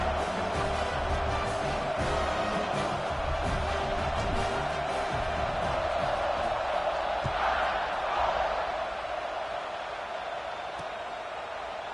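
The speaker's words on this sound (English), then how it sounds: "this crowd is buzzing after that last score" A football stadium crowd at a Alabama versus Mississippi State college game buzzes after a score, a steady, dense roar of many voices sustained throughout with no pauses.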